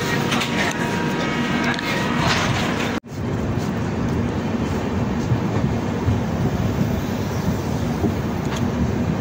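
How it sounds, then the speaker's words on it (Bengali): The Howrah–Lal Kuan weekly superfast express pulls into Lal Kuan Junction with a loud, steady rumble and rattle heard from inside the carriage. The noise drops out for a moment, then continues, and there is possible speech beneath it. "গাইস, তোমাদের ট্রেন ঢুকছে এই মুহূর্তে।"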